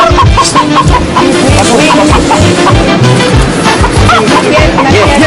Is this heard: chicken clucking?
yes